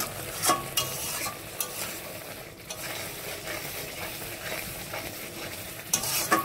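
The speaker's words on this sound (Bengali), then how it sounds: "মাংসের মশলা কষাচ্ছি।" Meat spice masala with green chilli, ginger, garlic and tomato paste sizzles in oil in a pan, with steady frying hiss and repeated scraping stir strokes close up.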